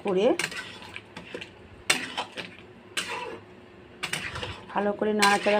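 Ground whole garam masala stirred into a ridge gourd and potato curry, a metal spoon clinking and scraping against the pot in several separate bursts, with a faint sizzle underneath and brief voice-like sounds.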